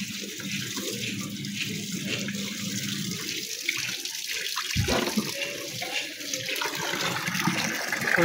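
Water running steadily from a tap into a small pool, a continuous close rushing splash with a faint voice in the background.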